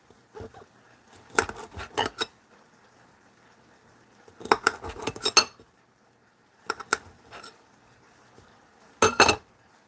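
A knife cuts raw shrimp into small discs on a board while cooking egg rolls, giving a few clustered bursts of close, light tapping and clinking knife strokes separated by quiet pauses.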